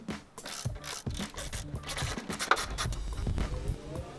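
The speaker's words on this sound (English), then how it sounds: "grab a 8mm socket and you want to remove both fasteners to the lower left and right of the factory grill" A ratchet with an 8mm socket removes the lower grille fasteners on a Ford F-150, making rapid clicking and ratcheting strokes with some scraping and rubbing, fairly quiet and close.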